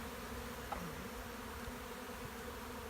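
Honey bees hum on a hive frame during a spring colony cleanup, a faint, even drone of many wings with no pauses or voices.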